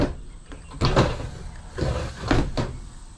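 Drawers in a 1983 Toyota Dolphin motorhome slide open and shut a few times, each movement a soft rolling rumble ending in a light knock, close by and without talk.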